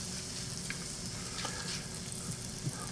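Garlic sautés with lobster mushrooms in a pan over medium heat, giving a close, steady sizzle with light crackles and brief stirring scrapes.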